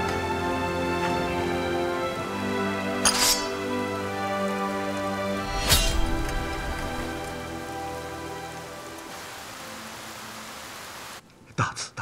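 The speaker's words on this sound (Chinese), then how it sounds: "别再下雨了，要不然我的大地就保不住了" Rain pours steadily onto surfaces in a historical drama scene, a dense, even patter beneath a sustained tonal music bed, with a couple of sharp accents along the way before the sound cuts off abruptly near the end.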